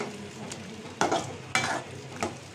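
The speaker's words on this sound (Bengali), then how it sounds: "কিমাটা চুলায় আছে, চুলাটা কমায় রাখছি" Minced meat keema cooking in a pan on a stove over low heat, a soft steady sizzle punctuated by three or four sharp spoon scrapes and stirs, no talking.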